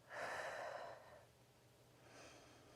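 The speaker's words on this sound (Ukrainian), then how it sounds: "Діафрагмальне дихання, але саме в цій позиції." One slow, breathy inhale-exhale sounds up close during a core-strengthening exercise, a long airy rush followed by a second, quieter breath. It is soft and heard alone, with no talking.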